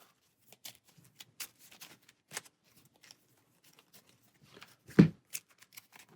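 Arkham Horror game cards being shuffled by hand, a quiet run of soft riffling bursts and taps, with one louder slap near the end, no talking.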